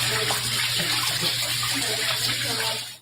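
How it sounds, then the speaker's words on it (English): Heavy rainwater leaks into a building and pours down a stairwell to a parking garage, a steady loud gush with a faint voice underneath. "You can see it pouring down this stairwell to the parking garage."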